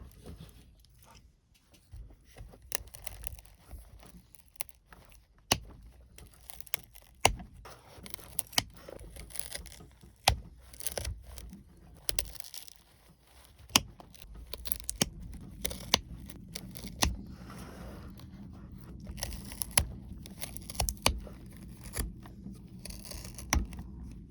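Scissors snipping at the roots of an Eastern redbud bonsai grown over rock, many close, crisp cuts in an irregular rhythm with rustling between them.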